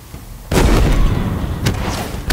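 Gunfire in Halo Infinite combat against brutes, grunts and jackals: a quiet lead-in, then a sustained loud burst of shots from half a second on, with another sharp crack near the end.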